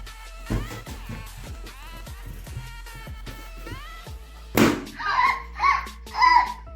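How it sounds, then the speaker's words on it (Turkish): A sharp, loud balloon pop cuts through a child's chatter and is followed by excited high-pitched squeals and giggles. "Evet bu balon da patladı"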